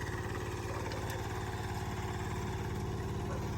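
Kubota KRA75 7.5 hp diesel engine running in high gear, with a steady close chugging drone and a regular pulsing beat throughout, with no voices.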